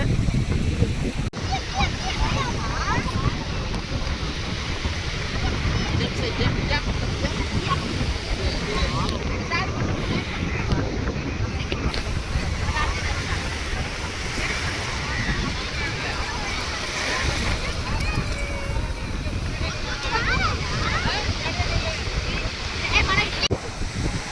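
Sea waves on the shore at Rameswaram, a continuous rushing surf with wind buffeting the microphone, and people speaking over it.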